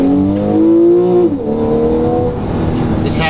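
A 2014 Porsche 911 Carrera with a 3.4-litre flat-six engine, heard close as a smooth steady drone that rises slightly before dropping and settling into a lower hum.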